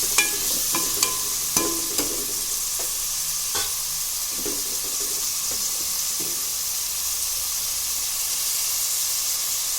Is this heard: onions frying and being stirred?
yes